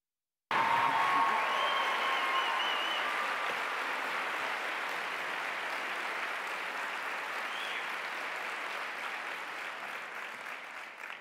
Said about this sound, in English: please give Ms. Adichie this evening a huge round of applause and welcome her to UBC.